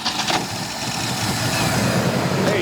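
A 1966 Ford Mustang V8 pulled from a junkyard after decades, with a leaking accelerator pump diaphragm, runs in neutral with a steady, rough mid-range idle that is loud and close, with no talk over it.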